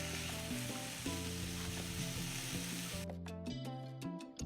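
Onions frying in olive oil in a pan, a loud continuous sizzle with crackling throughout, close by. Near the end a few sharp stirring scrapes cut in.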